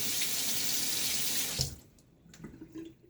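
A bathroom tap runs loud and steady into the sink for rinsing during a shave, then shuts off after about a second and a half, leaving a few faint drips and small handling sounds.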